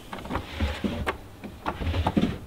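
Drawers in a van kitchen fit-out slide open and shut several times, close by, with soft rolling runs and sharp knocks as they hit their stops.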